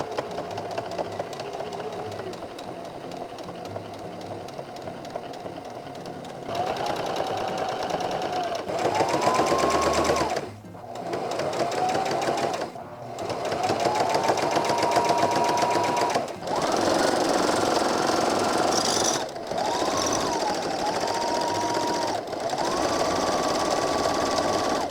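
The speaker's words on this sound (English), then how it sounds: "let's just start sewing." Sewing machine stitching a fabric apron waistband, running in long steady bursts with short pauses between them, loud and close, no talking.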